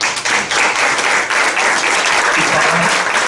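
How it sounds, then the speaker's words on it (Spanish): A studio audience at a Latino magazine television show breaks into applause, a loud, dense, continuous clapping from many hands that holds steady for a few seconds with scattered crowd noise. "quisiera un aplauso para Santiago"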